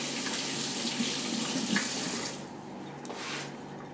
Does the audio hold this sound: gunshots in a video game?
no